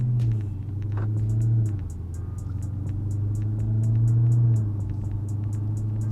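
A 2020 Dodge Charger Hellcat riding on H&R lowering springs gives a deep, loud, continuous engine rumble while driving, swelling and easing as it cruises, with a rhythmic ticking clatter on top.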